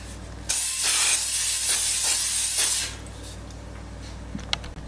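A Todd English 5.8-quart air fryer basket gets one continuous hiss of cooking spray lasting about two seconds, close and fairly loud, followed by a few faint clicks and handling noises.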